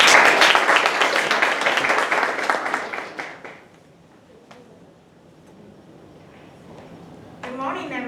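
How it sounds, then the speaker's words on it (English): An audience at an English speech contest claps for the next speaker, a burst of applause that dies away after about three and a half seconds into a quiet room, followed by a voice starting to talk. "Let's give her a round of applause."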